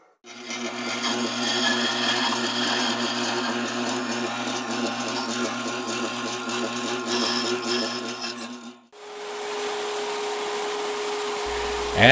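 A wood lathe spins a segmented wooden flower pot at about 340 RPM, holding a steady, close mechanical hum with a faint whine. Partway through, the sound shifts abruptly to a different, smoother drone.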